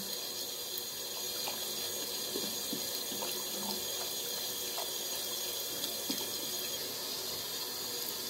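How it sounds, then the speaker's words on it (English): Bath taps run steadily and water pours into a tub in a continuous, even hiss and splash, close and alone without any talk. "let's get the taps running, let's get the bath going"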